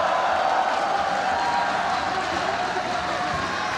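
Arena crowd at an MMA bout between John Lineker and Muin Gafurov, a steady, dense roar of many voices with faint cheers throughout, loud and continuous with no break.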